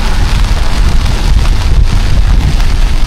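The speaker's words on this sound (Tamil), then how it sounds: "சரியான காற்று மழையும் பேஞ்சிக்கிறதுக்கு இதை பார்த்தாலே உங்களுக்கு விளங்கும்" Heavy rain lashes down in strong, gusting cyclone wind, a loud and dense continuous roar of downpour and buffeting air with no voices.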